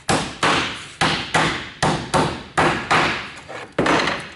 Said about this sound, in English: I'll drive these home with a hammer.